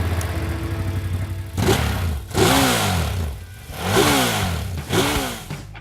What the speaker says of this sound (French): on va faire entendre le bruit de la moto